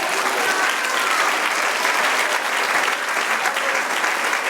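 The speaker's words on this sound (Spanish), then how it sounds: "Dar un aplauso al Señor." Congregation applauding during a church sermon, a sustained, dense wash of clapping from many hands filling the room, steady and fairly loud with no speech over it.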